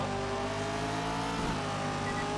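Rally car engines roar steadily in the Colin McRae Dirt racing game, a loud, dense, continuous drone with no voices over it.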